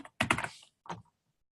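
A few quick keystrokes on a computer keyboard, a short cluster of taps followed by one more after a brief pause, close and fairly quiet.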